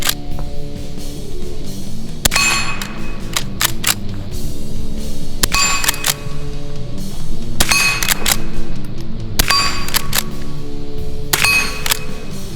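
Century-old tube-magazine rifle fired outdoors, five sharp loud reports spaced roughly two seconds apart, each with a metallic ring, over a steady background hum.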